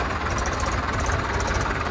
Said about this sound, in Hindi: इनकी रेस दिखाता हूँ मैं आपको अभी, ये देखो आप बिल्कुल नॉर्मल रेस है